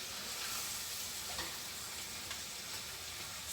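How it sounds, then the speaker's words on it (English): Saltfish being stirred into a hot pot, a close, steady sizzle with a constant hiss that carries on unbroken for a few seconds, with no voices. "I'm adding it in a little at a time, and then I'm stirring it so that the saltfish can be mixed into that."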